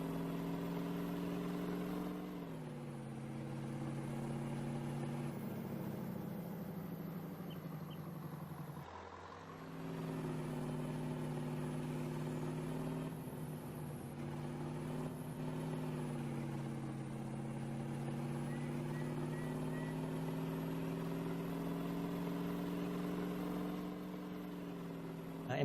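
A lorry engine in Farming Simulator 19 runs continuously at a steady low drone, rising in pitch briefly and dipping midway before settling back to an even hum, with no voices over it.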